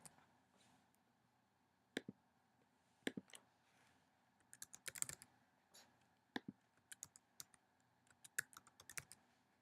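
Key presses on a computer keyboard while logging into a test page, sparse at first and then clustering into quick bursts of sharp, close clicks with quiet pauses between them, no voices.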